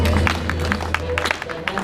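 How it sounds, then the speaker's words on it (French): Audience at a Nikon photography conference claps in a lively burst, quick overlapping hand claps with some crowd murmur and a low hum beneath. "on va applaudir pour donner un peu d'énergie"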